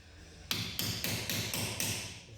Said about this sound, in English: knocking the socket on like that before you try them